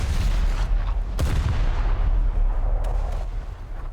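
Naval cruiser guns fire at a Japanese destroyer in War Thunder, a Yūbari prototype cruiser's battery sounding as heavy, rumbling booms layered over a dense, continuous battle roar, with one sharp blast standing out.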